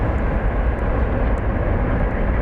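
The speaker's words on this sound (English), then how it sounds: "So that's Singapore Airlines cargo coming in from Anchorage, 747-400." A Singapore Airlines cargo Boeing 747-400 landing at DFW Airport makes a steady, dense engine rumble, close and loud for a brief stretch.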